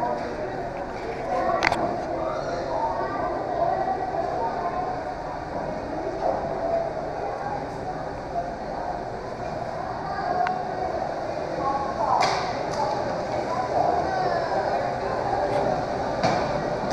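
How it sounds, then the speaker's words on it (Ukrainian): A large train passes on a railway line in Toronto, a steady loud rumble and rolling clatter with occasional sharp metallic clanks, continuous throughout, with someone talking over it. "Такий от поїздище."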